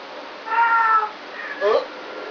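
A voice imitating a cat's meow: two short, drawn-out, nasal mews about a second apart, heard close up against a quiet room.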